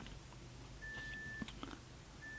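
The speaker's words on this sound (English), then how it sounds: "Oh, there's my phone beeping again." A faint electronic phone beep tone sounds twice, a brief steady pitch over quiet room noise with a few small clicks.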